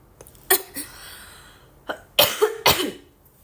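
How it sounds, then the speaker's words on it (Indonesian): A run of dry coughs from a person with a lingering cough, close to the listener: a couple of single coughs, a short pause, then a quick cluster of three. "batuk mulu deh, nggak sembuh-sembuh"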